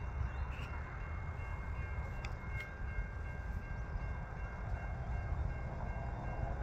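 A train approaches from the station with a continuous heavy rumble of wheels and cars, loud and steady throughout, with faint brief high tones and no talking.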